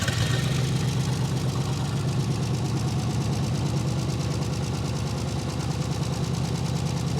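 The engine of a 1969 Chevrolet El Camino idles steadily and close, with an even, rhythmic low loping pulse and no talk.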